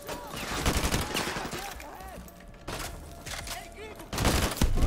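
Bursts of automatic gunfire in Call of Duty Modern Warfare 2 Remastered, several rapid rattling volleys separated by short lulls, loud and close, with a player's voice talking over parts of it.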